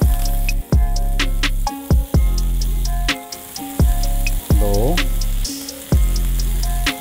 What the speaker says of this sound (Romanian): Acum baconul. Îl voi adăuga și pe el tot aici în tigaie.